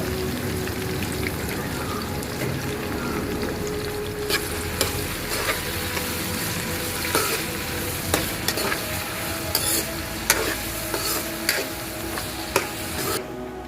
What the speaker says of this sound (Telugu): బాగా కాగడం ఆయిల్ అది ఉల్లిపాయ ఫ్రై చేయాలి.